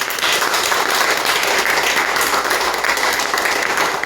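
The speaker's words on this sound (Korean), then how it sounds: "박수 한번 하시죠" A congregation at a church missionary report meeting bursts into loud, dense applause, many hands clapping continuously and evenly at close range, with no speech over it.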